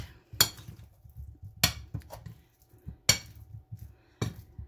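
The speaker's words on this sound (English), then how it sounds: "Stir all that up." Mushrooms being stirred with seasoning in a bowl: four sharp utensil clinks against the bowl at steady intervals, with soft scraping and tumbling between them, close and fairly quiet.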